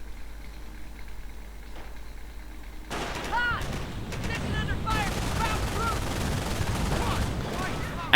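Gunfire in a WWII strategy game breaks out after a quiet start, with bursts of rifle and machine-gun shots crackling at mid distance over a rumbling battle bed.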